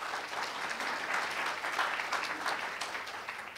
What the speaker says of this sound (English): So a big round of applause for yourselves.